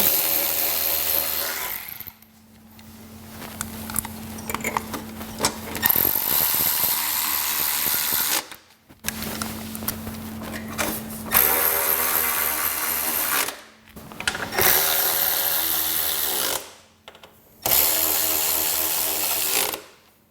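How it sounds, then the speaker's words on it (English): A 13 mm power driver spins gas tank bolts back into a vehicle, several loud buzzing and whirring bursts of a few seconds each, separated by short silent gaps, up close. "We're going to take our 13 millimeter and go ahead and put our gas tank bolts back in."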